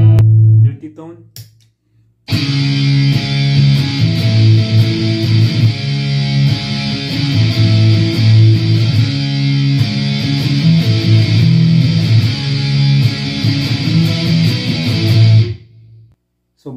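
A distorted electric guitar plays through a multi-effects pedal. After a brief quiet start, dense, saturated chords and notes drone loudly and continuously for about thirteen seconds, then stop abruptly.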